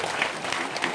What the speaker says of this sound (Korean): 지금까지 박수 쳐주실래요?